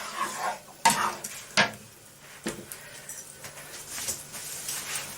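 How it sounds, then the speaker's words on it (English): A mixture is stirred round in a pan, with sharp scrapes and knocks of a utensil against the pan over a faint background sizzle. "And mix that round"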